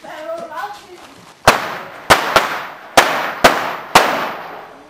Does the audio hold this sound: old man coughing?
no